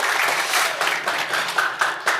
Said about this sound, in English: give her a round of applause if you would